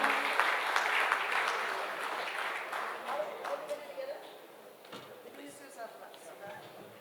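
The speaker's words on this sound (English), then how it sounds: "can we have a huge round of applause for a charming guy here?" Audience applause fills a banquet hall at a dairy conference event, loud at first and slowly fading over several seconds, with chatter and voices mixed in beneath the clapping.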